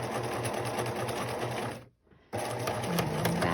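A sewing machine stitches a fabric face mask, running close and steadily with a fast rhythmic whir, briefly stopping for a moment before resuming at full speed.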